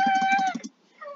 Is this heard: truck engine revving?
no